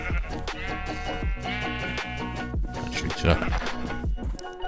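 Sheep bleating in a Minecraft modpack world, several calls overlapping with steady game music underneath, close and moderately loud.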